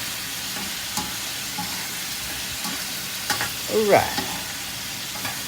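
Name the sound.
stirring sizzling food in a pan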